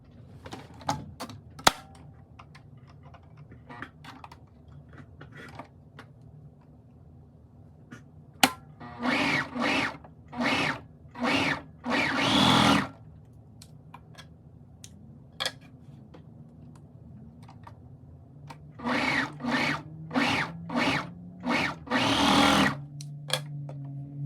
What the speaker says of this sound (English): So I'm gonna take it to my serger and just gather up that portion right there.